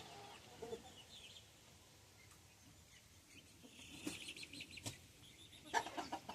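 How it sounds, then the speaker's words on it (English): A single bantam chicken clucks softly among other homestead poultry in a pen. The calls are faint and scattered, with a few sharper clucks and rustles toward the end over quiet background noise. "with this one bantam chicken."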